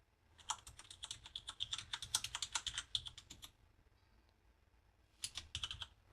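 Rapid typing on a computer keyboard while entering a Raspberry Pi's IP address, a dense run of close clicks lasting about three seconds, a short pause, then a brief second burst of keystrokes; no talking.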